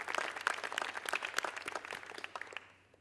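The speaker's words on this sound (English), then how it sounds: "it deserves a round of applause" A youth TEDx audience gives a round of applause: brief, moderately faint clapping from a crowd that fades away toward the end.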